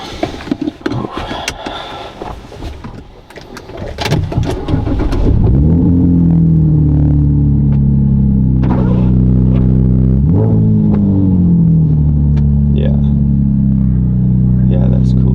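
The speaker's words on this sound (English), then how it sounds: "I think we'll start the car" A car engine cranks and catches after some talking and handling noise, then settles into a loud, steady idle with a brief rev near the middle. The running engine is heard up close and continues to the end.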